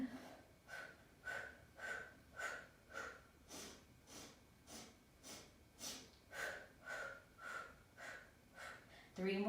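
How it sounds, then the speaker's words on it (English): Rhythmic breathing during a Pilates mat exercise, steady repeated inhales and exhales about every half second, close and soft, with no talking. "Breathing."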